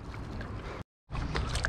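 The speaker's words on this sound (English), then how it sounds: "we're just paddling back up" A fishing kayak is paddled at sea, with close, steady splashing and rushing water, broken by a brief silent gap before the strokes resume.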